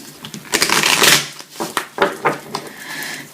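Tarot cards handled and shuffled up close produce a loud burst of riffling followed by several crisp slaps and flicks as the deck is squared.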